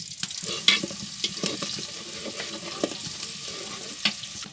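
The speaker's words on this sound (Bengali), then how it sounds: "এখন পেঁয়াজটা একটু বাদামি কালার করে ভেজে নিতে হবে" Chopped onion fries in soybean oil in a cooking pot, a close, steady sizzle with intermittent stirring scrapes and a few sharper clinks of the spoon against the metal.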